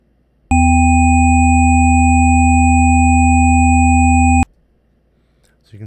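Four sine-wave overtones generated in Audacity and combined into one steady, loud, pure tone that holds for about four seconds and stops abruptly, heard alone.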